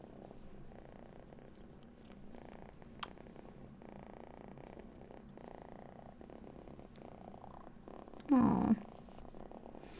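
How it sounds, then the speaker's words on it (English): A cat purrs softly and continuously in a quiet room, a faint low rumble that runs throughout, with a brief louder voice near the end. "your kitty's very happy then if they're doing those types of purrs."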